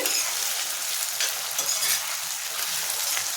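Ginger-garlic paste fries in a pan, giving a steady, close sizzle with faint scrapes of stirring throughout and no talking.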